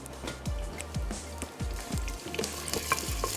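Tomato puree with green chillies and chopped onion fries in a pan, a steady close sizzle with soft rhythmic thuds and scrapes as a spoon stirs it, about once every half second, no talking.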